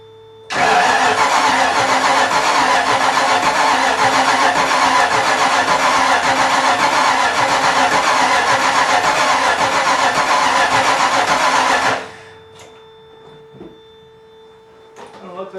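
A 5.0 V8 swapped into a Miata cranks and fires for the first time, roaring loud and close for about eleven seconds at a steady rumbling idle before cutting out abruptly, then quiet with faint clicks.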